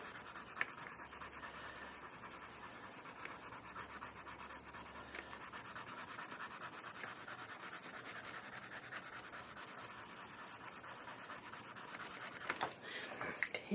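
Pablo colored pencils scratch steadily across paper during adult coloring, making a close, continuous dry rubbing with fast back-and-forth strokes that carry on without pause.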